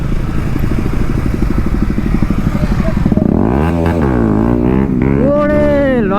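A motorcycle on a group ride held in a long wheelie, its engine clattering then rising and falling as the revs sweep up and down, loud and close, with voices over it.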